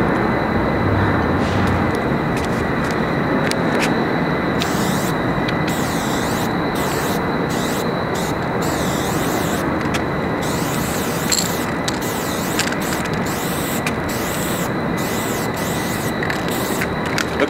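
A spray paint can fitted with a Wally cap blasts a thick coat in one long, loud, continuous hiss that holds steady throughout with no talking.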